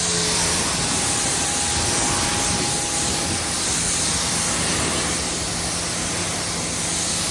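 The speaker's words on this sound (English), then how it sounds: "I'm gonna spray it off." Hose spray rinsing a car panel after a pH neutral wash, a loud steady hiss of water running continuously and close.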